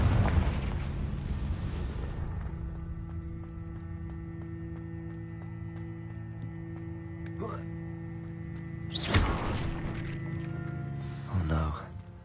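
A Confringo blasting spell bursts in the video game Hogwarts Legacy, opening with a loud booming blast that fades into a sustained hum, followed by a few smaller pops and impacts.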